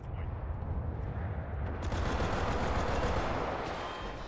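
Rifle gunfire in the game Enlisted during a Pacific battle with Commonwealth forces, rapid repeated shots merging into a dense low rumble, loud and continuous without talk.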